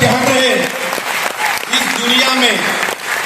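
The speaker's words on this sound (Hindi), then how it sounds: "तो मैं चाहता हूं कि एक बार खुद के जोरदार ताली हो जाए और जितने बजा सकते जोरदार बजाओ।" An audience at a motivational speech in Thailand claps loudly in a sustained burst of applause, with a voice talking over it.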